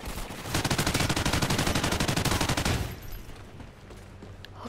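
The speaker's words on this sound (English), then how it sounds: "I hear gunshots" Rapid automatic gunfire in Call of Duty: Ghosts rattles in a fast, steady burst for a few seconds, then stops, leaving quieter game background noise.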